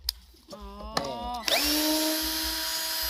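A KEYANG cordless drill drives a screw into wood: short stop-start motor bursts first, then a steady, rising whir held close and fairly loud to the end.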